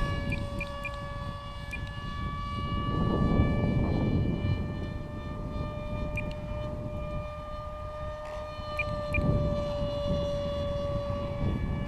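A Super MEGA-Jet electric motor with a 7x5 propeller drives an A-6 Intruder model at full speed, producing a steady high-pitched whine with layered tones over a rushing airflow roar that swells and fades as it passes.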